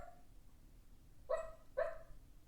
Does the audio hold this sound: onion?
no